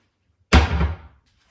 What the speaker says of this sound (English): you can see and hear that this cupboard slams